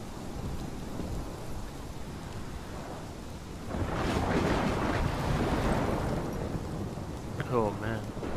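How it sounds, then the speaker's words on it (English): A thunderstorm in the video game Life is Strange, with steady heavy rain that swells into a rolling rumble of thunder midway, then continues as a dense wash of downpour. "Here's the storm."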